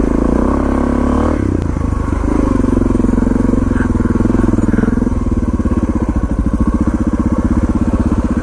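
A Suzuki DRZ400 dirt bike engine drones loud and close in the rain on a hill climb, its throbbing note settling into a steady rapid chug.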